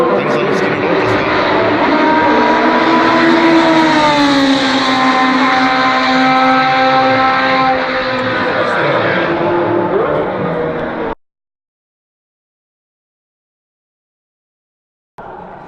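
A loud Lotus race car engine roars past at close range at a motor racing event, its pitch rising and falling for about eleven seconds, then cuts to silence before a brief return.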